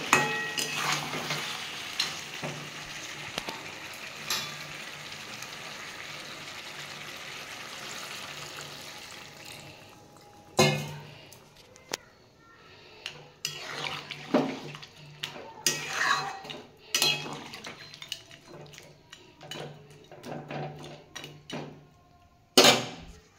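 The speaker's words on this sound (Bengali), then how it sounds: "আলুগুলো দিয়ে একটু নাড়িয়ে আমি এবার জল দিয়ে দেবো।" Potatoes stirred into a pot of sizzling chicken curry, with frying hiss, scraping and clinks of a spoon against the pan, followed by sharper splashing knocks as water goes in.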